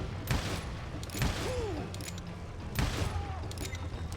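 Gunshots in the Western shooter game Call of Juarez Gunslinger, a few sharp, booming reports spaced about a second apart over a steady game backdrop, with voices speaking between shots.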